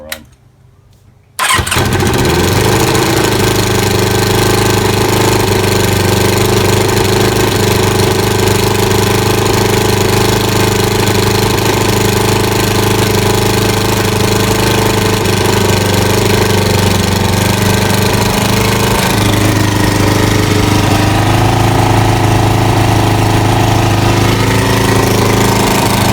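A Kawasaki ZL600 Eliminator motorcycle engine fires up after a brief quiet moment, then runs loud and close with a steady rumbling idle that rises and wavers as it revs itself up, with no talk over it.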